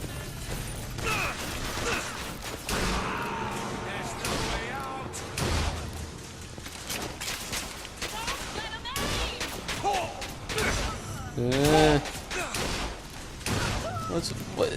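Gunfire in BioShock Infinite rings out in repeated sharp bursts and crashes amid game clatter and whooshes, with people talking over much of the action.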